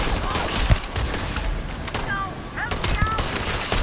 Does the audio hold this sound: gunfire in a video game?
yes